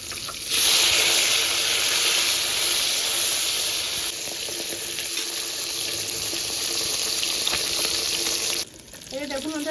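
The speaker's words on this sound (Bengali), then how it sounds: "এবার মাছের এক সাইড ভাজা হয়ে গেছে, উল্টে দিচ্ছি।" A whole fish fries in hot oil after being flipped, giving a loud steady sizzle that runs for several seconds before dropping off sharply near the end, with no talk.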